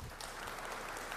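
Applause from an audience at a formal Indonesian government address, a faint, steady wash of clapping through the whole short moment with no voice over it.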